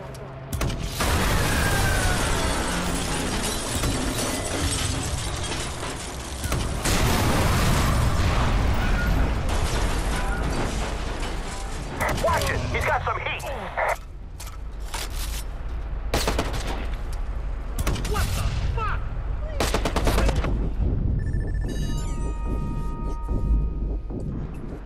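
Gunfire in the video game Watch Dogs rattles in loud bursts amid a dense, busy action mix, with explosive pops and mechanical clatter running almost continuously before thinning out near the end.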